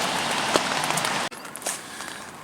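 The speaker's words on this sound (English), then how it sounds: "it's still raining on and off" Steady rain patters on a Eureka Midori 2 tent during a camping trip, a dense close hiss of drops on the fabric that briefly cuts out and then continues more softly, with no voices.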